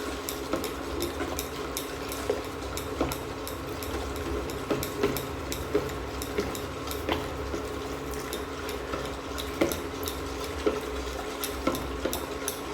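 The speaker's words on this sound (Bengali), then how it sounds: "এটাকে কিন্তু কনস্ট্যান্টলি নাড়তে হবে কিন্তু একবারে দিলে হবে না" Milk pudding mixture stirred constantly in a pan, a quiet steady run of soft spoon scrapes and light clinks repeating through the whole stretch over faint background hiss, with no talking.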